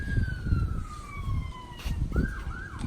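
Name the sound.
siren in the distance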